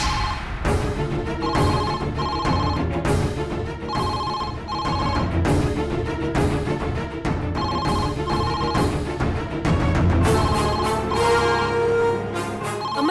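Telephone ringing in a Tamil TV serial, repeated bright electronic rings in a steady rhythm, loud and continuous with no talk over them.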